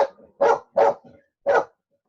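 A dog barks four times in short, loud, close bursts indoors, with brief gaps between them and no talk over the barks.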